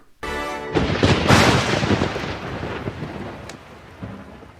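A loud thunderclap cracks suddenly and rolls into a long rumbling boom amid rain, fading gradually over several seconds with a faint second rumble near the end.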